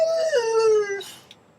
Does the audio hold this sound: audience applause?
no